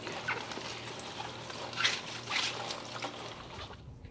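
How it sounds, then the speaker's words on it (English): Brussels sprout leaves are rinsed under running water, producing a soft, continuous trickle with irregular splashy surges, close and fairly quiet, with no talking. "I'm going to rinse out my Brussels sprout leaves."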